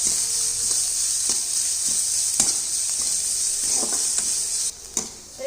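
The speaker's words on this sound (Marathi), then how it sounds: "सर्व मध्यम गॅसवरती लालसर होईपर्यंत आपण ह्याला फ्राय करून घेणार आहोत" Chopped onion frying in a pan over medium heat, a steady bright sizzle with occasional stirring scrapes and clicks, continuous and close, briefly dipping near the end.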